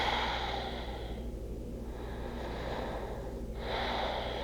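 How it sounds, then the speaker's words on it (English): Slow, deep belly breathing close to the microphone, a long airy inhale, a pause, then another breath rising again, soft and unhurried with a faint background hum. "start to belly breathe"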